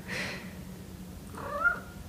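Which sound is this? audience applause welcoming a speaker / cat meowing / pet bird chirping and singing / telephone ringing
cat meowing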